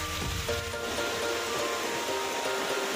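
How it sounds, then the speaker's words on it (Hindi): A small waterfall beside Gondar village on the Madmaheswar trek in Uttarakhand, heard as a steady, dense rush of falling water filling the whole clip close by, with no voices. "तो अभी आप देख रहे हैं मेरे पीछे एक प्यारा सा झरना आया हुआ है।"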